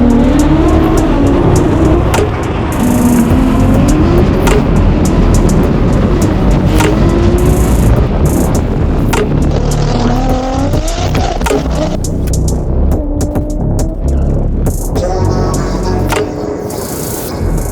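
A Nissan R35 GT-R drag car accelerates hard at Santa Pod, engine roaring loud and close, with rising revs through repeated gear changes and faint tire noise, continuous for the whole stretch.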